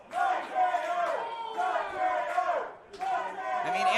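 Large wrestling crowd loudly chanting in rising and falling bursts, two or three swells separated by short dips, sounding like rival sections answering each other.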